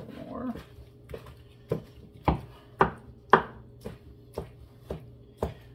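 Knife chopping vegetables on a cutting board for chicken soup: about ten sharp, evenly spaced chops close by, with faint dog whimpers in the background.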